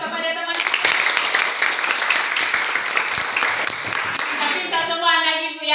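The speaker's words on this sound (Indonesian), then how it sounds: "Luar biasa, berikan aplaus kepada teman." A class of students applauding a classmate in a school lesson: a sustained burst of many hands clapping, fairly loud and close, with a voice speaking briefly at the start and again as the clapping fades.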